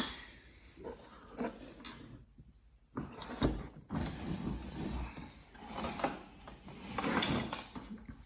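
A Ryobi electric lawnmower is tipped onto its side, giving a few close, hollow plastic-and-metal clunks and scrapes with quieter shuffling between them and no talk.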